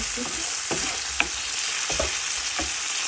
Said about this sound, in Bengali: আলুটাও একটু ভেজে নিচ্ছি